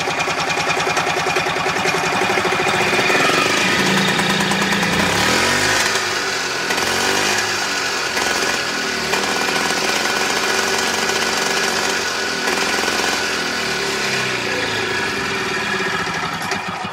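A 1971 Harley golf cart engine with choke applied runs loud and rough throughout, a steady mechanical chug with uneven revving close by and no talk.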